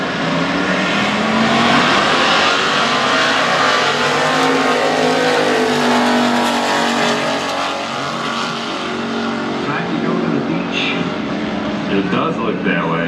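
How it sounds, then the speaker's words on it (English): Engine roar of a 1984 Pontiac Trans Am at a drag race, a loud, sustained broadband rumble running throughout under a track announcer's commentary. "He's up against Sherry McLean's 84 Pontiac Trans Am out of Kingsville, Ontario, Canada"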